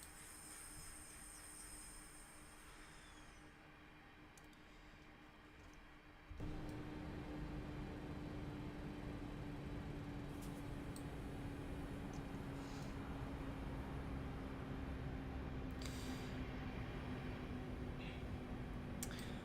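Train Simulator 2022 game train running with its default sounds: a faint steady hiss and rail rumble that steps up in loudness partway through, with a sustained tonal whine and occasional brief clanks.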